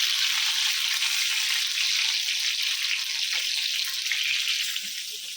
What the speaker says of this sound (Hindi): मिर्ची फ्राई हो गई,